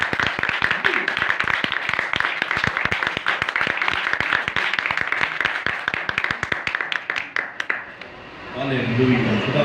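A worship congregation bursts into loud applause, dense sharp claps filling most of the stretch before thinning out, then a voice begins speaking as the clapping fades.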